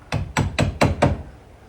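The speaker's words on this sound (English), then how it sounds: "when it gets too tight to push in, you can knock it in a little bit" A tight-fitting piece is knocked into place with a brace: five sharp, evenly spaced knocks, close and distinct, with no talking.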